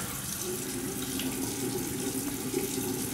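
Warm water runs steadily from a bathroom tap during a shaving routine, a continuous close hiss and splash filling a sink with no pauses or talk.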